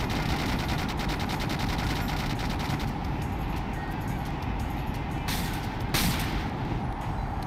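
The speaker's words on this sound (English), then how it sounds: "Careful of the gunfire." Rapid gunfire in the video game Sonic Adventure 2, a dense, continuous burst-like clatter running loud throughout, with brief brighter spikes near the middle and end.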